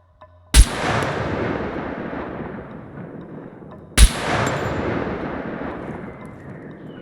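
Two loud gunshots aimed at a puppet in outdoor wilderness, each a sharp blast with a long rolling echo, spaced about three and a half seconds apart, with no talking.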